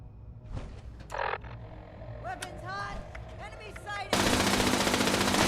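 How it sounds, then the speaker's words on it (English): Enemy gunfire in Fallout 76, bursts of shots mixed with someone talking over game sounds, ending in a loud sustained roar of noise. "he's shooting me through everything"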